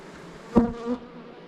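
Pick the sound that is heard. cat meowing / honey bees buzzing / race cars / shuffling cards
honey bees buzzing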